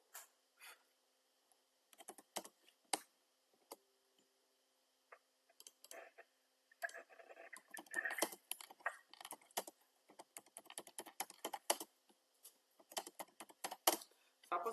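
Someone types a post on a computer keyboard, with sparse clicks at first and then dense, irregular bursts of keystrokes heard up close in a quiet room.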